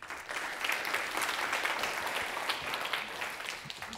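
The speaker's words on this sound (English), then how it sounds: "on applaudit Alfredo pour." Applause from an audience at a developer conference talk in Nantes, a steady broadband wash of clapping lasting about four seconds at moderate level, with no voices over it.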